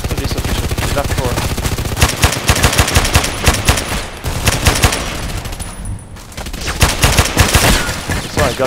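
AEK-971 rifle firing in the video game Contract Wars, loud rapid bursts of automatic gunfire in a close, continuous stream with a brief pause midway, a voice talking faintly underneath.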